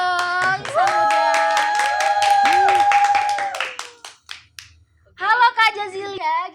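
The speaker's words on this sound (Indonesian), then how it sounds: "Tepuk tangan dong insan muda." A studio audience claps to welcome a guest on an Indonesian youth talk show, sharp rhythmic claps layered with a bright sustained tonal jingle, then a pause and a voice speaking.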